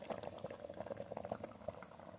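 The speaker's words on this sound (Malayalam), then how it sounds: "നമുക്ക് അടച്ച് വെച്ച് ഒന്ന് നന്നായി തിളപ്പിക്കാം." Fish curry with coconut boils in a covered clay pot, a faint, close bubbling of small irregular pops and gurgles with no talk.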